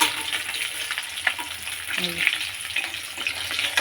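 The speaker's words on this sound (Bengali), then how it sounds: "বাটা মাছটা যে ভাজা হচ্ছে" Bata fish frying in a pan gives a steady, crackling sizzle throughout, with a few brief stirring clicks on top and no voices.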